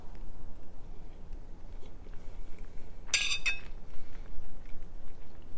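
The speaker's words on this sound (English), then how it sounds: "Gonna get some sausage on my fork and some cheese and some rice." Single short clink and scrape of a fork on a plate during a meal of sausage, cheese and yellow rice, quiet and brief against a low room hum.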